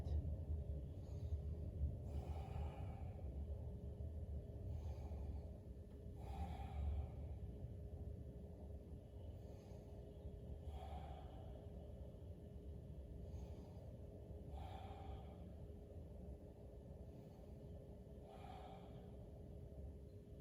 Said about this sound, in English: Just keep breathing here, nice, slow, deep, even breath.